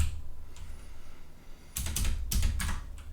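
Code is typed on a computer keyboard in a short burst: a few faint taps, then a quick cluster of sharper key clacks near the end, close up with no talking.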